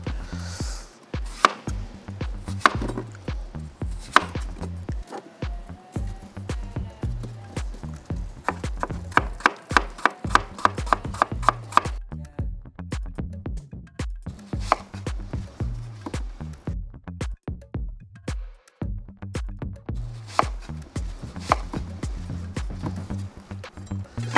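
A knife chops food into cubes on a board, dense rapid knocks in bursts with short pauses, close and crisp through the whole stretch.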